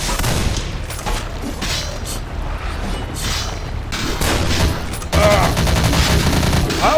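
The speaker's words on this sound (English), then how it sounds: "Who is shooting us?" Sustained volleys of gunfire and booms in the video game Vampire: The Masquerade – Bloodlines, dense and continuous throughout, growing heavier toward the end.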